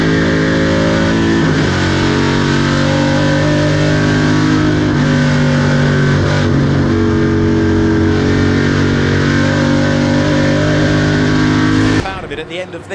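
Race cars including a Ford Capri roar past at Goodwood in a loud, continuous multi-engine drone with revving and shifting pitch, a commentator talking over it, before the noise cuts off abruptly near the end.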